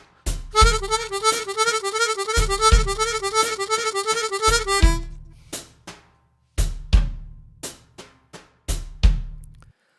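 Chromatic harmonica tuned to C, set in a slow blues in E, runs a rapid four-note figure three times per quarter-note beat as an even stream of twelve notes per beat, then breaks into short separated stabs. Played alone and close.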